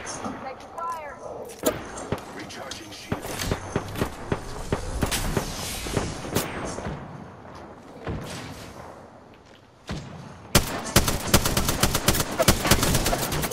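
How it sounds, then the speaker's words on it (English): Rapid bursts of gunfire in an Apex Legends firefight, sharp cracks clustered through the clip with a dense barrage near the end, mixed with game footsteps and background effects while players talk. "Getting shot at."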